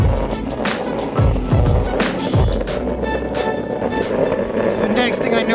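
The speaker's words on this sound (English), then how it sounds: "these hub motors seem to make quite a lot of noise" Backfire 2 electric skateboard hub motors whirring while riding, a steady mechanical whine and rolling rumble with a few louder swooshes, close and continuous, with someone talking over it.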